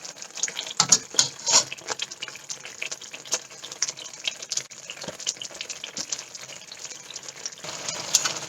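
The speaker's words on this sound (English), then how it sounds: "So I'm going to simmer this and let it cook well" Sauce for nasi lemak simmers in a pot, producing a close, continuous bubbling crackle and sizzle with scattered louder pops and spits throughout.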